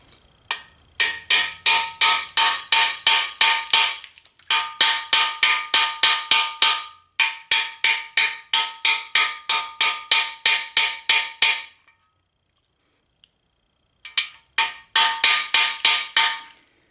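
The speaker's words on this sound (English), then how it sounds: "drive it in with a hammer" A hammer drives a freeze plug into an engine block in rapid, loud, ringing metallic blows, delivered in several fast bursts of about a dozen strikes each with short pauses between.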